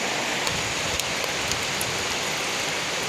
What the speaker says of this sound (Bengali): এখন বৃষ্টির শব্দটা আরও বেড়ে গেছে।